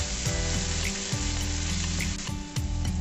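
Grated garlic and ginger fry in hot oil in a pan for a taro curry, giving a loud, steady sizzle and crackle throughout with a few soft stirring scrapes.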